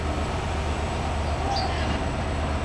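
A train begins pulling out of Rajshahi railway station with a steady low rumble and broad mechanical noise, a faint high squeal briefly rising over it.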